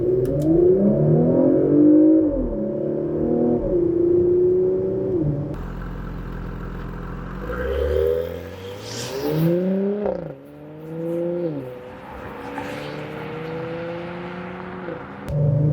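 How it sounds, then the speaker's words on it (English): A 2021 Porsche Macan Turbo with sport exhaust launches from a standstill, its engine rising loudly through repeated gear changes, each upshift dropping the pitch before it climbs again; no one talks. "we're going to test out the acceleration of the Macan Turbo from a dead stop."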